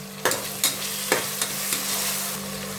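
Tomatoes fry with ginger-garlic paste and salt in a pan for a simple chicken biryani, a close, continuous sizzle broken by about six sharp stirring scrapes spaced roughly half a second apart.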